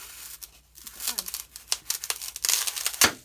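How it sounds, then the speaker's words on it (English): A big knife sawing through burlap: scratchy tearing and rasping fiber strokes in an irregular series of short bursts, close and fairly quiet, with no talk. "Burlap's kind of hard to cut."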